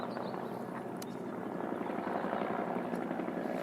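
A helicopter passes overhead, its steady rotor thump and engine drone filling the background at moderate distance in the California hills, with no one talking.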